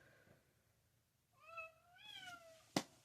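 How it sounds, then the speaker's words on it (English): A house cat at the door gives two drawn-out, rising-then-falling meows in quick succession, fairly close, followed by a sharp knock or thud, with no talking. "The cat is at the door."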